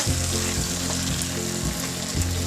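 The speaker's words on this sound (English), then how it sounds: "And here goes the paneer, our cottage cheese. So just give it a stir." Cubes of paneer cottage cheese sizzle in a hot pan while being stirred, a loud close frying hiss with a few scraping bumps over a couple of seconds.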